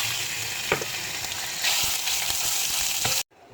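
Minced pork sizzles loudly in a pan of frying garlic, a dense continuous crackle with a few stirring knocks, then cuts off abruptly near the end.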